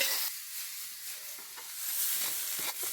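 Leafy greens fry in a pan as their water cooks off, giving a soft, faint sizzling hiss with a few light stirring scrapes, close by and fairly quiet.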